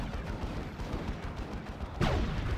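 A tank cannon fires a single heavy shot in a Warhammer 40k video game battle, hitting a wall: one sharp booming blast near the end, rising out of a steady rumble of battle noise, with no talk.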